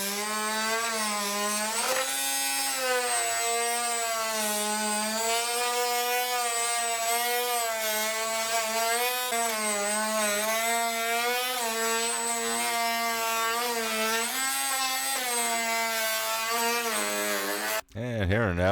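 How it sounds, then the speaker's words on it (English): Cordless rechargeable oscillating multi-tool cutting through PVC pipe clamped between sawhorses, a loud steady high-pitched buzzing whine with rhythmic pitch wobbles as the blade works, continuing for most of the stretch before stopping abruptly near the end. "I'm going to use the Oscillating cutting tool here, a little rechargeable Cordless One I had bought ages ago at Harbor Freight"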